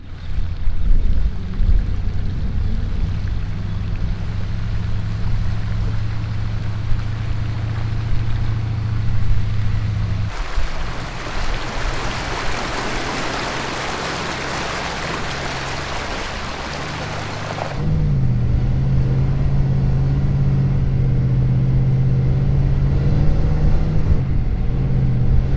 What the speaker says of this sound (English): I've got a couple of water crossings straight into it.